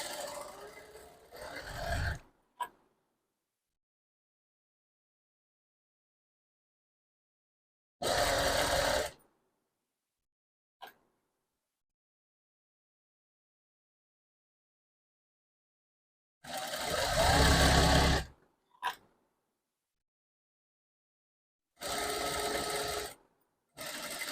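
A sewing machine stitching thread piping onto fabric, loud close whirring bursts of a few seconds each separated by long silences, with a faint click or two between runs.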